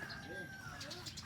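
Racing pigeons coo softly in a loft, a couple of low rolling coos under a voice talking nearby, faint and close.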